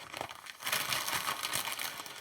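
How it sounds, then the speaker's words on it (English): A basic plastic bag with a slider zipper being crinkled and crushed by hand, a continuous close, soft rustle with no voices. "What I have in here is a basic plastic bag that has a slider onto it."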